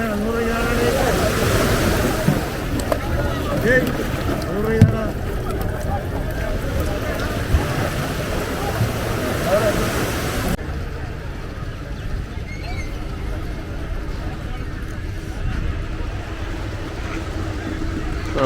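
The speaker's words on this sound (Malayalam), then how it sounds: "വിഴിഞ്ഞം ഹാർബറിൻ്റെ തൊട്ടടുത്ത് തന്നെയാണ് അപ്പോൾ വള്ളങ്ങളൊക്കെ വന്നുകൊണ്ടിരിക്കുകയാണ്" Fishing boat motors drone over wind and lapping waves as boats arrive at Vizhinjam harbour, with people talking nearby throughout.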